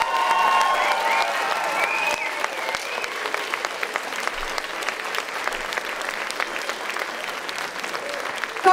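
A school-show audience at a regional secondary-level talent competition gives the young performers a loud, full round of applause with some crowd noise and voices, holding steady and dense for several seconds.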